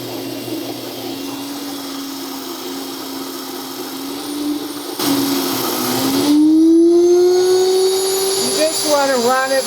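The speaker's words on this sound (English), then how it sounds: "So I'm milling 6 cups of flour." An electric grain mill grinds wheat berries into flour with a steady loud motor whine whose pitch climbs partway through, ending in brief squealing wavers as the hopper empties.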